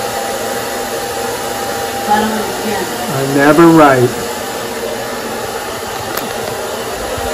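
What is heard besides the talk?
hair dryer heating contact paper on kitchen cabinet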